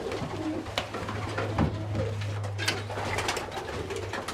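Pigeons coo softly and repeatedly in a pigeon loft, low rolling calls overlapping across the scene with light rustling and shuffling around them.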